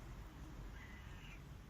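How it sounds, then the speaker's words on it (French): A friendly outdoor cat gives a single faint, drawn-out meow, barely rising above soft, steady background noise. "Regardez comment il miaule, c'est trop mignon."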